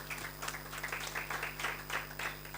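An audience at an ANC business sector engagement in KwaZulu-Natal claps continuously, a moderately distant, fairly quiet round of applause with a steady patter lasting the whole stretch.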